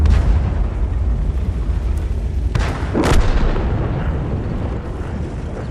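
A Tiger I tank's heavy cannon blast booms out in a video game, followed by a second sharp burst, over a constant low engine rumble.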